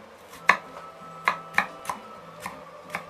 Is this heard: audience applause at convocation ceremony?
no